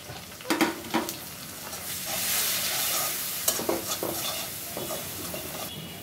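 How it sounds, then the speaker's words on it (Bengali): Onion fries in a pan for a small hilsa fish curry with pointed gourd, giving a soft continuous sizzle broken by several close scraping stirs of a spatula. "পেঁয়াজটা ভেজে নিচ্ছি।"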